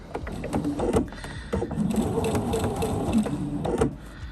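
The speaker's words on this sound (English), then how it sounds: "You can see I've already started stitching this, and I'm following the 3/8 inch line on my needle plate." A sewing machine stitches a fabric tree skirt along a 3/8 inch seam line in short, rhythmic bursts of rapid mechanical clatter, pausing briefly between runs, close and moderately loud.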